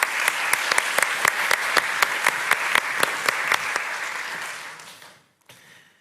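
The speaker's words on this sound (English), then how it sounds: "a round of applause for both Robert Dijkgraaf and Gerda Casimir" A crowd at an academic year opening ceremony claps steadily for several seconds, sharp scattered claps over the applause, then it fades out, with a faint murmur after.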